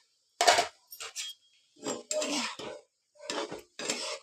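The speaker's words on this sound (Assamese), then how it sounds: "মই চব্জিখিনি লৰাই দিম আকৌ এবাৰ" Vegetables stirred in a metal pot, separated bursts of scraping and clinking from a spoon against the pot, close up with short silent pauses between strokes.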